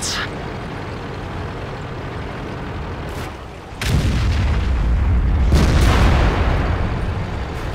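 Tank cannon blasts in World of Tanks, heavy-tank battle: a sharp distant report around three seconds, then a loud, close booming shot near four seconds with a long rumbling tail, and another burst near five and a half seconds.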